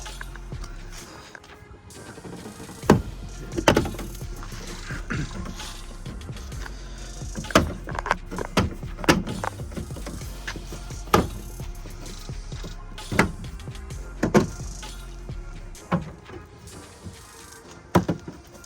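Plastic retaining clips pop loose one after another as a rear diffuser is pulled off a BMW M140i: sharp, close snaps and clicks at uneven intervals over a low background rumble.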